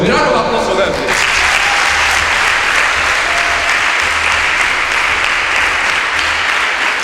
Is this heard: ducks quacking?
no